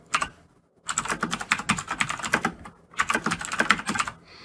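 Rapid typing on a computer keyboard while entering array values in C# code, dense clattering keystrokes in two bursts separated by a short pause, close and clear with no talking.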